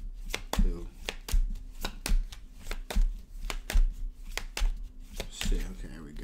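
Cards being shuffled for a reading, a steady run of sharp riffling taps and slaps repeating roughly every half second, close and fairly loud, with faint talk underneath.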